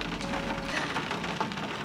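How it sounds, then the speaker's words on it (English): Heavy rain drums steadily on the roof and windows of a car, heard from inside the cabin as a dense, even patter that stays constant throughout with no talking. "It's raining really bad outside. It just sounds so peaceful."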